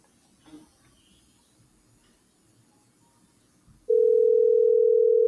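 A voicemail recording tone sounds once on a phone line: a single loud, steady beep that begins after a few seconds of faint line noise and holds without break to the end.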